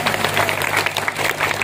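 Crowd applause from a large audience at an Isra Mi'raj religious sermon in Kajen, Pekalongan, dense steady clapping filling the short moment, fairly loud and continuous with a low hum beneath.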